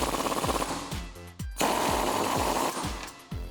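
Ratchet driving a 19mm deep socket to tighten a bolt on a Jeep Wrangler JK suspension during a Teraflex lift install, giving a fast, close run of rattling clicks, then a brief pause and a steadier, louder continuous whir.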